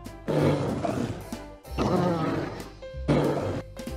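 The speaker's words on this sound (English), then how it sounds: "Polar bear." A polar bear roars in three loud, rough bursts separated by short pauses, close and harsh over background music.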